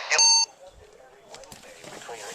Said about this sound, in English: The warning alarm.